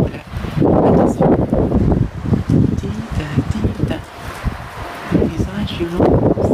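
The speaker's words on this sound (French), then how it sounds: "c'est un orage venteux" Strong gusts from a violent windy thunderstorm in Montoison buffet the microphone in loud, rumbling bursts, with a person talking throughout.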